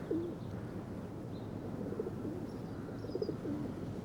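A pigeon at a grain-feeding button test gives several soft, low coos spread across a quiet, faintly noisy background, with a few faint higher chirps further off.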